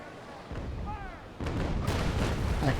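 Naval cannons fire a broadside in the sailing-ship battle game Naval Action Legends, heavy booming blasts rolling in one after another and building into a dense, loud rumble.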